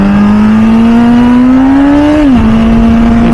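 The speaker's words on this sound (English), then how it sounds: "If you can hear the exhaust, it's a completely different bike compared to like most of Ducatis" A 2007 MV Agusta F4 Senna with a 1000cc inline-four exhaust revs loudly and close, its tone climbing steadily for about two seconds before dropping sharply and settling into a steady drone.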